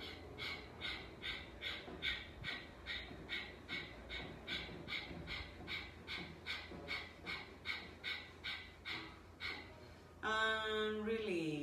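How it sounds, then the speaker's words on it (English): Rapid, forceful exhales through the nose in a breathing exercise during a morning yoga stretch session: about twenty sharp, evenly spaced puffs in a steady rhythm, close and clear, followed by a short burst of talking at the end. "exhale rapidly, kicking with the diaphragm"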